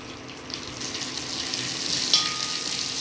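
A handful of washed and dried curry leaves frying in a teaspoon of oil in a kitchen pan, a steady bright sizzle that grows slightly louder with a small crackling pop near the end, no talking.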